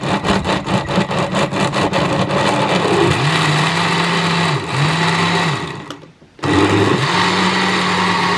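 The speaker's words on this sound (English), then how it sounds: "Watch out, going for the blender. Blender, you're powerful." Blender blending carrot and ginger, a loud close whirring motor that pulses at first, then runs in repeated bursts with changing pitch and a brief stop before restarting.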